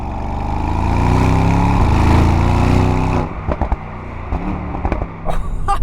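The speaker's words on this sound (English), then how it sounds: "Just the noise of that V8" Mercedes-AMG GT63 V8 engine roaring loud and close, a sustained deep rumble for about three seconds before breaking into sharp crackles and pops as it comes off throttle.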